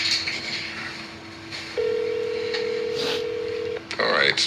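A phone call being placed, with a steady dial tone that gives way to a long, clear ringback tone, under a faint background hum with brief noise near the end.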